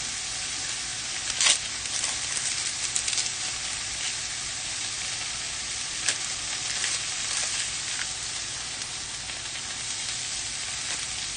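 Onion and garlic sizzle in a frying pan, a steady bright hiss of frying with a few sharper crackles and pops, close and continuous, with no voices.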